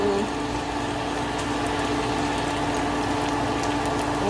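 Chopped onions and tomato paste sizzle in hot groundnut oil for a fish and beef stew, a steady, dense frying hiss that holds at an even level throughout with no talk over it.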